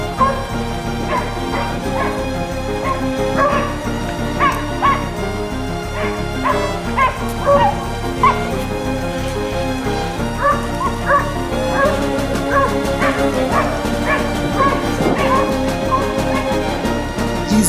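A pack of hunting hounds bays and yelps continuously during a hunt, many dogs barking together at once, loud and busy, with whimpering cries mixed in.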